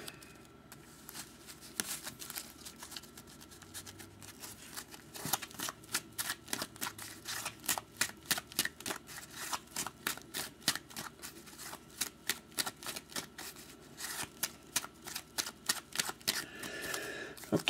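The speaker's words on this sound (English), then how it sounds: "I'm going to shuffle and cut the deck" A deck of trading cards being shuffled and cut, producing a long run of rapid riffling clicks in close, fairly quiet bursts with brief pauses between passes, and no talking.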